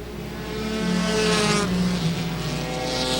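Race cars roar around an oval racetrack, engines swelling as they pass close by in a loud, continuous blur of motor noise with a rising and falling pitch.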